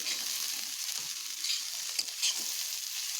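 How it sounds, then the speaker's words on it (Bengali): Potatoes frying in a pan hiss with a steady bright sizzle, broken by a few soft scraping stirs, close and continuous with no talking. "আলুগুলো এইভাবে ভেজে নিলাম, একটু বেশি টাইম দিয়ে ভাজলাম আলুটাকে"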